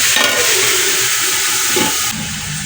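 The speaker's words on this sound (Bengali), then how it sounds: "পকোড়া এবার ভাজি ছাড়লাম ভাজিটাকে এবার ঢেকে দেবো" Bhaji fritters frying in hot oil give a steady, loud, hissing sizzle that runs throughout, easing slightly near the end, with no talk over it.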